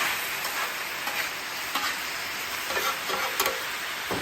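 Orange chicken sauce sizzles and hisses on a hot griddle, a steady frying crackle with occasional sharper pops and scrapes.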